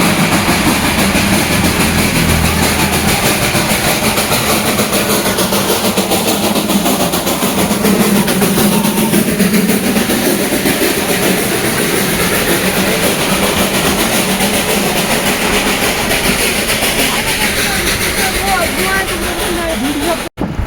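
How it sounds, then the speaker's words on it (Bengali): Darjeeling steam toy train running, a loud, steady rumble with rail clatter that continues without pause from start to finish, close to the listener. "আর আওয়াজটা পাচ্ছেন স্টিম ইঞ্জিনের।"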